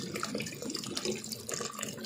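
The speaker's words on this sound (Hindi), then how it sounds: "अब आपने इस पर पानी डालना है।" Water pours into a pot of potato and mutton curry with fried masala, a soft, fairly faint splashing and gurgling stream lasting about two seconds, with no talking over it.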